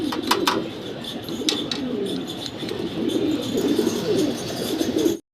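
A pair of Spanish gorgoria pigeons coo in a low, continuous burble close by, with a few sharper chirps and rustles near the start and no talking.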